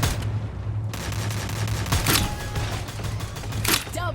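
An MP40 submachine gun fires at close range in the Free Fire video game, rapid rattling bursts over a dense, steady battle din.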